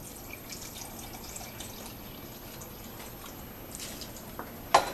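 A cup of water poured into flour, salt and starter for no-knead sourdough dough, a faint running trickle under a low background hiss, ending with a short sharp clink.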